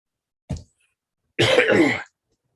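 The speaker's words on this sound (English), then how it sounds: "I've got a cough." A person coughs twice at close range, one short single cough followed after a pause by a longer, harsher hacking cough, with no other sound around it.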